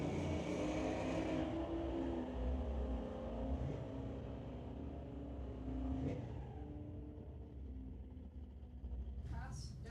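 Two drag cars, a 1989 Chevrolet S10 and a 2016 Subaru, launch and race down the strip, a loud sustained engine roar with revving under a commentator's voice.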